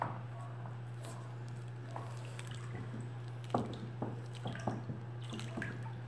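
A large bucket of homemade liquid cleaning soap being stirred, giving soft wet squelches and sloshing drips scattered over a steady low hum, fairly close.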